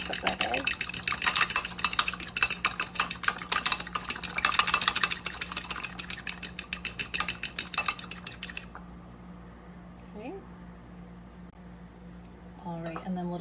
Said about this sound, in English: We'll whisk up that egg.